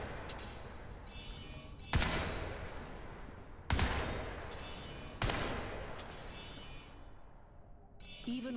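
Weapon fire in the PC shooter Crysis 3, with three loud, sharp blasts spaced about two seconds apart, each trailing into a rumbling decay over low game ambience.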